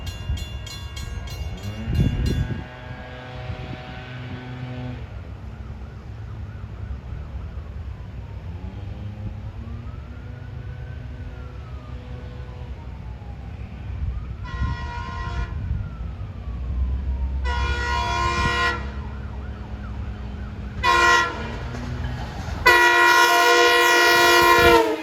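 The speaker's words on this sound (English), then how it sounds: "approaching is train 69 en route from Patchogue to Babylon" Train 69, bound from Patchogue to Babylon, approaches and blows its horn in a series of long blasts that get louder and closer, over a steady rumble of the passing train.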